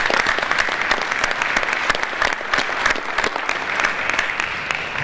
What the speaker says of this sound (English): I want to give you all a round of applause as well.